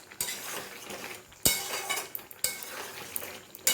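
A spoon stirs a curry of papaya with kasuri methi in a cooking pot, making a run of close scraping, clinking strokes with a few sharper knocks against the metal. Nobody talks.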